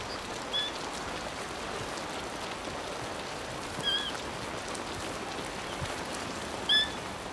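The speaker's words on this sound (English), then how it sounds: "This rhino baby has never seen rain before." Steady rain pours down in an outdoor wildlife setting where a young rhino and its mother stand, a continuous hiss of falling drops with a few faint bird chirps breaking through.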